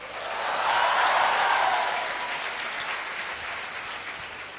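Sustained applause from a class audience, a dense broad wash of many hands clapping that swells over the first second, peaks, then eases slightly and continues steadily without speech.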